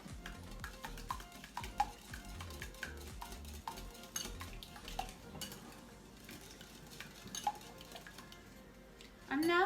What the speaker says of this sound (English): I'm going to mix this together so that there's a nice even balance throughout the filling